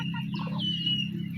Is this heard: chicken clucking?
yes